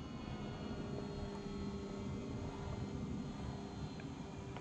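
An FMS Pitts radio-controlled model airplane flying, its motor a steady, continuous drone heard from a distance with no voices over it.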